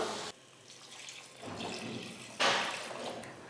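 Water pours into a cooking pot for mutton leg (aattukkal paya) soup, a steady close splashing stream that swells louder near the end, with no talking.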